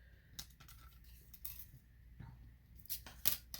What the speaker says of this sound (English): you're going to just cut that in half